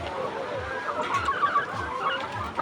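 A sick hen on a poultry farm clucks softly in short, repeated bursts against faint background farm noise.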